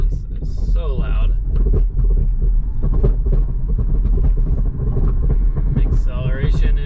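A Volvo XC40 Recharge towing a load accelerates onto a highway merge, with a loud steady low road and wind rumble filling the cabin while a person talks over it.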